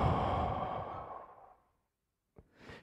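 A long, deep breath drawn in and slowly let out as a sigh during a relaxation moment, fading to silence, followed by a short click and a faint second breath.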